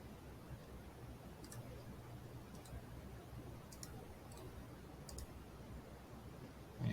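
Mouse clicks during CAD drawing of a gasket, about six faint, isolated clicks spaced across a quiet room hum.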